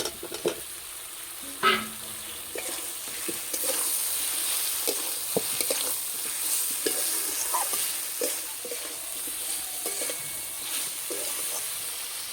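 Fried potatoes and a ground poppy seed and cashew paste go into a pan of oil-releasing spices for vegetarian Kashmiri aloo dum, followed by steady sizzling and frying with intermittent scraping and stirring taps, close and alone.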